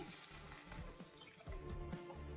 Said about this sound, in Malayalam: ഇതിൻ്റെ കൂടെ ഞാൻ രണ്ട് കപ്പ് വെള്ളം ചേർക്കുന്നേ